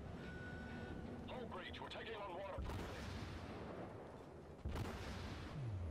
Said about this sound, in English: Caught torpedoes right in the side, three of them, and I was just slowly sinking.